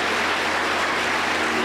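Steady, dense applause from a congregation welcoming a ladies' choir at a Pentecostal church anniversary service in Chumar Bellavista, Huancayo, filling the room evenly throughout with no voices on top.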